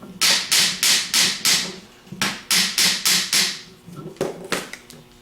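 Metal hammer taps seat a part inside a 3G alternator during a rebuild: a quick run of about five sharp, ringing strikes, a brief pause, another run of five, then a few softer knocks, close and loud with no talking.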